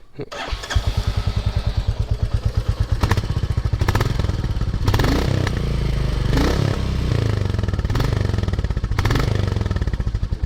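A motorcycle engine starts and runs steadily with a loud, rough, throbbing idle and a few revs, close by, with no voices.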